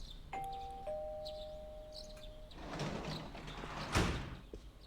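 A two-tone electronic doorbell chime in a video game, Persona 4 Golden, rings once, clear and steady, followed by a rushing whoosh and a thump over low background hiss.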